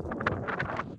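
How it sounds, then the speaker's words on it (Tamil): Strong wind gusting across an exposed hilltop peak in Chikmagalur, a steady roaring rush with buffeting bursts against the microphone, loud and continuous with no voices. "பீக்கில் செம்ம காற்று அடிச்சிச்சு. அந்த சத்தத்தை பார்ப்பீங்க இந்த வீடியோவில்."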